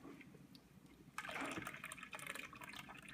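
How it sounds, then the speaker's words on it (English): Lemonade and cucumber juice spilling from a container with a troublesome top: after a quiet start, a sudden splashing gush of liquid that keeps trickling and spattering for about two seconds, close and fairly loud, with no speech. "I just spilled."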